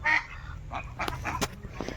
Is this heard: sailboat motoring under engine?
no